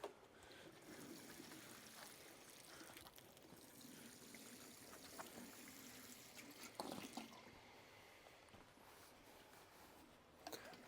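Water pours and trickles steadily onto tomato and cucumber plants in a garden, a soft continuous splashing wash with a few brief louder spatters, faint and close with no talk.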